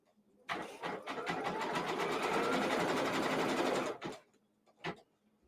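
A sewing machine stitching quilt fabric for a pieced block, running in one steady rapid burst of about three and a half seconds, close and clear, followed by a couple of short mechanical clicks.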